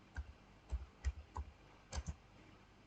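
Keystrokes on a computer keyboard while room labels are typed into a floor-plan drawing program: about seven or eight soft, separate clicks, two of them close together near the two-second mark, fairly faint, with no talking.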